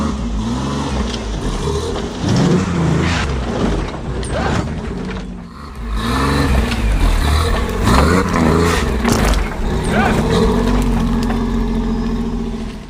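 Rock crawler rig revving hard to climb a rock hump, engine surging in loud bursts over clanking and grinding drivetrain, a short lull near the middle before another push, no talk.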